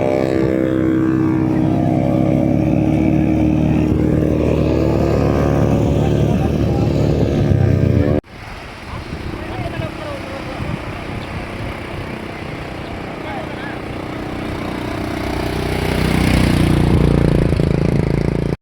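A buzzing, revving modified two-stroke motorcycle engine drones loudly for several seconds, then cuts to a rougher, distant rumble that swells again toward the end, at Suvali beach, Surat, Gujarat.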